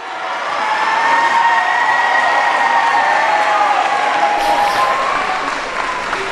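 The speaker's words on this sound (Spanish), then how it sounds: "lo reciben con un aplauso" A large crowd of people, including children, gathered in a cathedral courtyard in Turkey, applauds the Pope's arrival. The clapping is loud and continuous, with crowd noise and faint cheering mixed in throughout.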